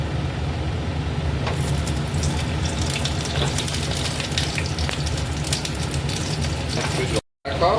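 Potatoes and bay leaves hit hot oil in a pan with a loud, continuous sizzle and crackle that holds steady for several seconds, then cuts out briefly near the end.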